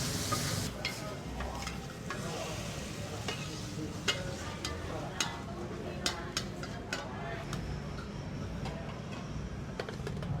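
Pork and holy basil (kaprao) stir-fried in a smoky wok at a Bangkok street stall, with continuous loud sizzling and repeated sharp metallic clanks of a spatula against the wok.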